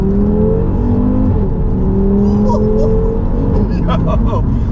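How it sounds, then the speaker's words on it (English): From inside the cabin, a stage 2, 460 bhp Audi RS3 8P accelerates hard in second gear, its five-cylinder engine droning loud and steady with rising tones, while passengers talk over it. "Second gear pull."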